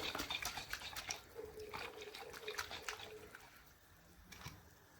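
Water sloshes inside a shaken 400 gram can while making Maltese baked rice, heard as a close run of quick splashing bursts that ease off toward the end.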